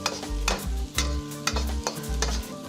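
Carrots and mixed vegetables for homemade chicken chow mein are stir-fried in a pan over a live fire, with steady sizzling and a rhythmic scrape-and-toss roughly every half second, close and fairly loud, with no talking.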